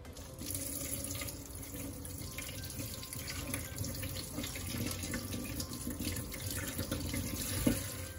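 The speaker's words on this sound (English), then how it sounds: "now we give this smelt a quick rinse" Water from a kitchen tap runs steadily for the whole stretch while small smelt are rinsed gently beneath it, with a soft splash near the end and no talking.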